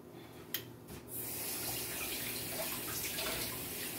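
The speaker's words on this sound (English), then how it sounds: "I'm gonna rinse my hands off." Water runs from a kitchen faucet as hands are rinsed while making stuffed strawberry French toast, starting with a few soft taps before a steady, close rushing stream takes over and holds to the end.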